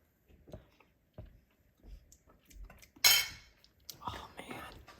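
A metal spoon clinks and scrapes against a pot of butter chicken as a taste is scooped, a series of close, light clinks and scrapes with a sharper clatter midway and quiet breathy sounds between.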